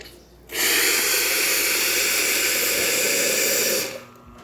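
A steady rushing hiss of hot water dispensing from a Lelit Bianco espresso machine after a full tune-up, starting abruptly, holding evenly for a few seconds, then cutting off.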